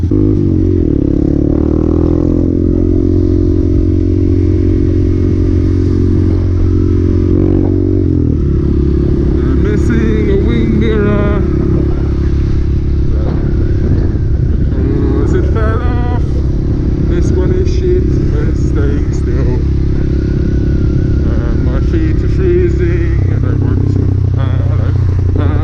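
A motorbike engine rumbles loudly and continuously as it rides around a corner, with a clattering, rising and falling revs, under people talking throughout.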